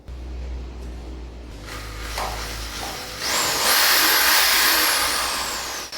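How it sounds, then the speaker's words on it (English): A hammer drill with no bit fitted whirs up and spins steadily at high speed, loud and close, with a rising whine and no one talking. "It doesn't have a drill bit in it, but I'm going to turn it on just to test"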